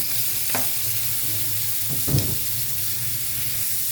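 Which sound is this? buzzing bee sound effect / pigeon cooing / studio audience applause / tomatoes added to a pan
tomatoes added to a pan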